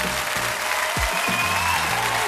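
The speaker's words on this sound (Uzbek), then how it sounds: "Bu qarsaklar sizga, yana bir qarsaklar sizga." An audience at a birthday-greetings show claps steadily, a dense wash of applause running throughout with some low thumps.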